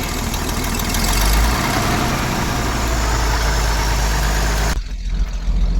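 An old Chevy dump truck that sat for about fifteen years runs on the fuel left in the carburetor bowl, its engine loud, rough and steady up close before the sound drops off sharply near the end.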